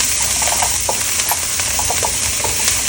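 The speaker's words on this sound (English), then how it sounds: "Let's add our onions. And we're going to cook this down until translucent." Onions sauté in a pan for Filipino fresh spring rolls, a loud, close, steady sizzle broken by light stirring clicks and scrapes, with no voices.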